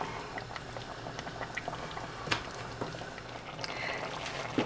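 A pot of tomato basil soup simmers uncovered on the stove, giving off soft, steady bubbling and small irregular pops, faint and close, with no one talking.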